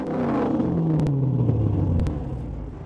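A car engine revs loudly during a roadside noise-level check, a deep rumble that swells and then drops in pitch as it eases off, close by with a couple of sharp clicks partway through.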